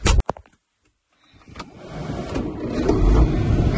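A farm tractor cranks over after a few sharp clicks and a short silence, then settles into a steady, rising diesel rumble that grows louder and holds close by, with no voices.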